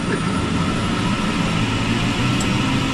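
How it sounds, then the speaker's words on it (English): A loud, steady jet turbine roar from a Eurocopter EC120 helicopter engine starting holds without a break, with a high whine running over the broad engine rumble and no speech. "That's a jet engine, isn't it?"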